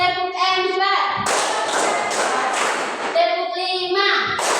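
A group claps in unison during a classroom stretching and clapping exercise, a burst of sharp, dense claps in the middle with voices chanting before and after.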